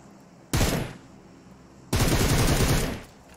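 Gunshots in PUBG Mobile as two loud, close bursts of rapid automatic fire, the first short and the second longer, separated by a brief quiet gap.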